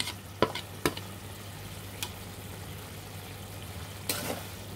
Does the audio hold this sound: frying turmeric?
yes